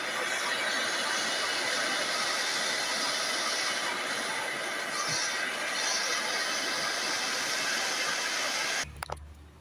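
A blowtorch heats the DPF differential pressure port on a Citroën Peugeot C4 1.6 BlueHDi, roaring as a loud, steady hiss for several seconds before cutting off abruptly, followed by a few faint knocks.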